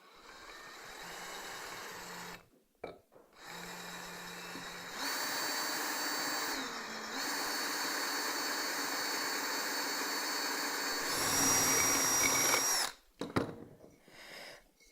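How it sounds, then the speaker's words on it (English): A power drill whines steadily as it bores into the lip of a terracotta pot, stopping briefly and restarting, then rising to a higher, louder pitch before cutting out. "When you start drilling into a terracotta pot, drill it where the lip is"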